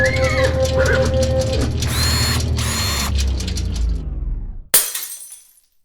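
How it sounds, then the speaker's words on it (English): A light bulb breaks with a sharp glass shatter after a stretch of ratcheting mechanical noise and tones. A bright burst of breaking glass rings out near the end, then fades to silence. "the random number generator has broken a light bulb"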